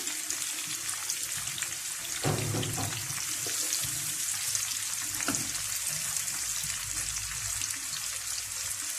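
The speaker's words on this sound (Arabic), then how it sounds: "كده البصل ابتدى يتحمر معانا ويتقرمش" Onions frying in oil for Egyptian koshari, a steady bright crackling sizzle throughout with a couple of louder splattering pops, no voices.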